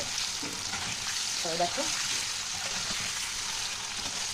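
Paneer lightly frying in a pan, a steady bright sizzle throughout with faint stirring scrapes, while someone speaks briefly over it.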